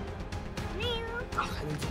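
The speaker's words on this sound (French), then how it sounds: "Il y a le chat." A house cat meows with a rising and falling cry, heard close over someone talking in French and background noise.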